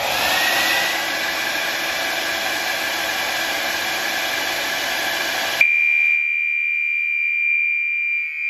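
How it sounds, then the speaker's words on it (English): A hair dryer blows a steady broadband whoosh against a heat detector on a Fire-Lite MS-4424B fire alarm panel, then cuts off abruptly and a sustained electronic alarm tone rings alone. "I'm going to go ahead and activate the heat detector by just using a hairdryer."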